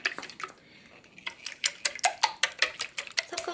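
A whisk or spoon clinks briskly against a bowl while egg yolks are mixed with white sugar, a fast, regular ticking rhythm, close and clear.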